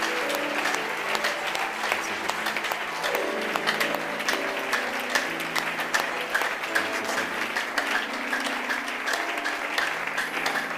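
A church congregation claps and cheers for the Lord in a steady burst of applause that fills the whole stretch. The sound is dense and continuous, and music sounds faintly underneath.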